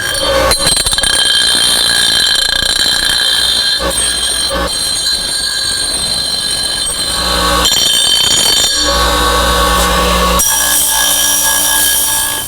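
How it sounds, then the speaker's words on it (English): Bench grinder grinding two half-moon notches into the end of a metal pipe in a workshop, a loud continuous high-pitched whine with shifting tone as the pipe is pressed and moved against the wheel, running the whole time. "I just used the bench grinder just to grind those two half moons in there"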